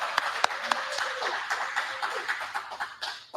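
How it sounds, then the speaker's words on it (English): An audience applauds steadily, a dense wash of clapping with a few sharper claps standing out and faint voices mixed in. "Let's give her a round of applause."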